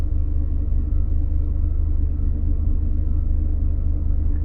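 A Chrysler PT Cruiser with a failing fuel pump gives a steady, loud low rumble with a faint whine layered over it, continuous and even throughout, with no talking.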